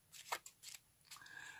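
A packet of playing cards shuffled off by hand onto another packet held in the hand, giving a few quick, close, soft riffling and sliding bursts in a quiet room.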